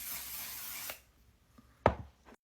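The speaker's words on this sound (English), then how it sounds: "Go in with your choice of setting spray." Setting spray misted onto a freshly made-up face: a soft, steady hiss lasting about a second, then near silence broken by a brief sharp tap.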